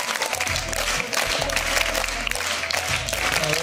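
A school audience at a science day celebration at ZPH School Konidela claps together in a continuous wash of applause, steady and fairly loud over a low electrical hum from the hall's sound system.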